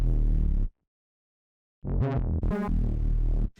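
A bass sound run through the Berserk distortion plugin, two short gritty, buzzing bass phrases separated by a moment of silence, loud and dry with no talking.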